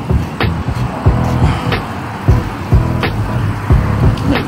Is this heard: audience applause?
no